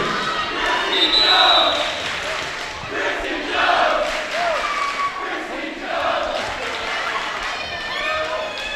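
A high school volleyball crowd in a gym cheers and yells loudly, a dense roar of voices with shouts rising and falling, while an announcer talks over it.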